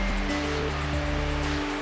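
Steady, full rush of falling water at the Great Falls viewpoint overlooking the lower lakes in Plitvice-style Croatian parkland, a continuous roar heard from a distance with a constant low hum underneath and no talk.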